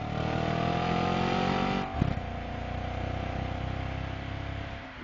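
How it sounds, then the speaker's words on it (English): A 2013 Audi RS5 engine revs in sport mode, a steady, loud, throaty drone that dips briefly and then holds high again, with no talk. "Revving it. Revving it."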